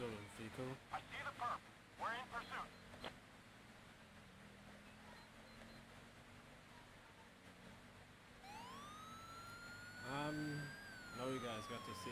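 A police car siren in GTA V with the LSPDFR mod, fitted with a modern siren box, wails in a rising sweep and then a steady tone through the later part, with talk and radio chatter before it.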